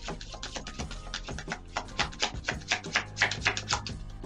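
Tarot cards being shuffled by hand, a quick run of crisp riffling taps and flicks that grows denser and louder toward the end, close up with no talk.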